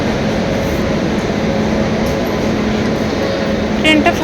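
A passenger train gives off a steady, loud rumble and hum, heard from on or beside it.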